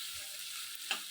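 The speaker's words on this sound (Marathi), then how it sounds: "बारीक चिरलेला कांदा छान ब्राऊन होईपर्यंत परतवून घ्या" Garlic, green chilli and finely chopped onion frying in oil for methi bhaji, a faint steady hiss with one brief stir near the end.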